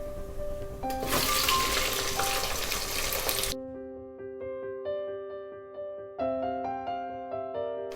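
Onions and spices sizzling in hot ghee for chicken biryani give a loud, bright hiss for a few seconds before cutting out, with background music continuing alone afterward.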